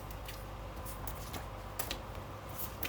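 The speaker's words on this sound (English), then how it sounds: "I know I shuffle up the combat cards" A deck of combat cards for a solo tabletop wargame being shuffled, giving soft, continuous riffling and papery clicks with a few sharper snaps, close by and with no talking.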